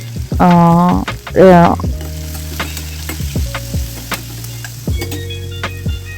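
Chopped onion and green chilies with salt and turmeric fry in a pan for a brinjal, tomato and pea curry. A loud, close sizzle is broken by stirring scrapes, and a brief voice-like sound comes early on.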